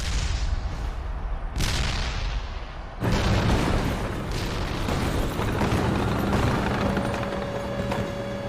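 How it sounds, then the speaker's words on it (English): An artillery barrage in a Pacific tank battle: heavy booms land one after another, then merge into a dense, continuous roar of loud fire. "The idea was just smother them with artillery fire, and that's what they did."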